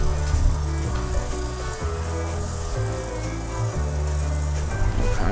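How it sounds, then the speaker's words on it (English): An Italian-imported pasta machine rolls ravioli dough thin, giving a steady, loud mechanical hum with low droning tones and slight shifts in pitch throughout, with no voices. "then we use the machine. This is imported from Italy. It stretches the dough real thin."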